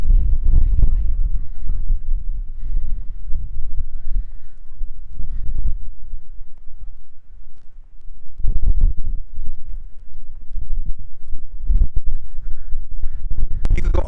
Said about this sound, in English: Boy, is it windy and cold